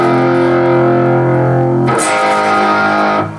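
Distorted electric guitar plays the pre-chorus of a song, sustained chords ringing loud and thick, then a sharp change to a new chord about two seconds in, with no talking.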